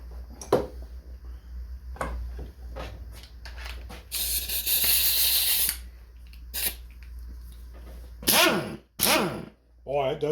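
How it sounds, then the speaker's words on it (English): Half-inch air impact gun driven by a Hart 20V 120 psi cordless compressor, firing in several short bursts and one longer rattling run, mixed with hissing air and clanks; loud and close, no speech heard. "Let's go right to the 1/2 inch with the 1/2 inch air gun."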